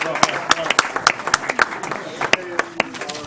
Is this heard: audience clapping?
yes